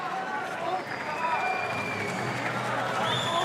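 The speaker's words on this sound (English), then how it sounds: "the hometown crowd being very respectful, cheering on both men" Hometown crowd at an Evecon RAJU 17 MMA fight applauding and cheering steadily throughout, a dense roar of claps and voices with a commentator talking over it.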